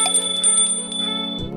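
A bell notification sound effect rings out as bright bicycle-style dings with a sustained metallic tone, loud and close, dropping in pitch at the end.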